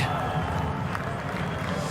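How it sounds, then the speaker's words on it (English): A rallycross crowd in Latvia cheers with a steady, broad roar under a commentator's voice. "There they are, crowd are very happy with that indeed."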